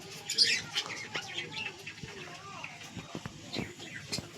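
Pigeons newly brought home and kept as pets take off and fly up, their wings flapping in soft bursts. Chirps sound in between, and a person talks over most of it outdoors.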